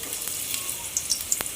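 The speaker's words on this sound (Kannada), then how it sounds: "ಈಗ ಈರುಳ್ಳಿ ಹಾಕ್ತಾ ಇದ್ದೀನಿ" Onions frying in hot oil for a mackerel fish sambar, a brief bright crackling sizzle with small pops, close and steady.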